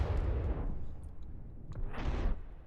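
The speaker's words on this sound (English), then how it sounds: "that seemed like an explosion, but probably just some small ammo" Two bursts of small ammunition exploding in a robot combat video game, the first a longer rumbling blast and the second a shorter crackling pop about a second and a half later, fairly quiet with no talk.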